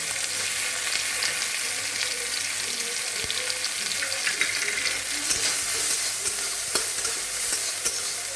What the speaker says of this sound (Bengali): তো আমি এখন একটু দিয়ে ভেজে উঠিয়ে নেব